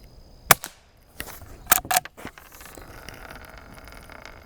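Rossi Rio Bravo lever-action .22 rifle fired outdoors: one sharp crack, then a short burst of loud metallic clatters and clicks that fade into a steady low background hiss.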